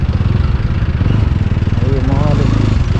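A motorcycle engine idles and revs steadily on a jammed main highway in Nepal, with the rider's voice talking over the continuous mid-pitched engine drone throughout.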